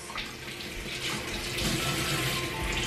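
Water runs steadily from a bathroom sink tap set to hot, a continuous close splashing hiss that swells slightly louder partway through, with no talking.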